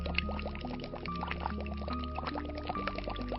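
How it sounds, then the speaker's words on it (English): A tilted bottle held underwater releases air as water flows in, producing rapid glugging bubble pops in an uneven stream, close and moderately quiet. "tilt the bottle slightly and observe air in the form of bubbles starts coming out of the bottle"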